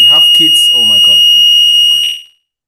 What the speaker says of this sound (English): Military alarm.